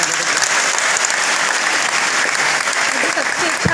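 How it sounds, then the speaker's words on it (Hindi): Loud, dense applause from schoolchildren and staff at a school gathering, steady and close throughout without a break. "इसके लिए ज़ोरदार तालियां सबसे पहले।"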